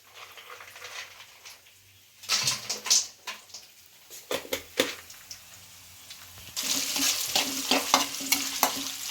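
Chana dal, urad dal and peanuts roasting in oil for mango rice, bursts of crackling sizzle and quick scraping stirs, quiet at first, then a louder, continuous fry toward the end.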